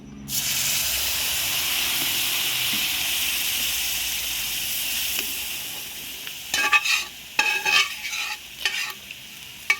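Moong dal halwa is stirred in a pan, a broad steamy sizzle filling the first half before fading, then a run of close scraping and clattering spoon strokes against the pan near the end.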